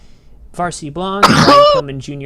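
A single short sneeze bursts out over someone speaking on a live wrestling predictions roundtable, one sharp noisy puff in the middle of steady talk.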